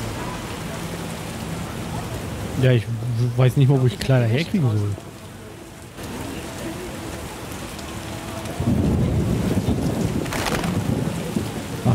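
A heavy downpour in The Witcher keeps up a steady hiss of rain, with a low rumble of thunder near the end. Someone speaks over it partway through.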